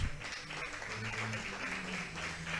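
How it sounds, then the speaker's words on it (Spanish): A church congregation applauds together in praise of God, a steady, fairly distant wash of clapping lasting a few seconds with no voices over it. "Vamos a darle un fuerte aplauso a nuestro Dios."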